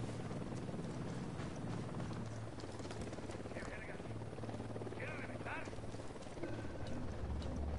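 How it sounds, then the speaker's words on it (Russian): Helicopter in the video game Tom Clancy's Ghost Recon Wildlands, a steady rotor drone running through the whole stretch under game sounds and voices. "Вертушка единственно на подлете."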